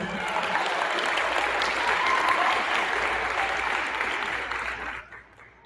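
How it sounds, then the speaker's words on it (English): A school audience applauds at a sixth-grade awards assembly, a dense, steady round of clapping from a crowd indoors that fades out at the end. "Let's give them another round of applause."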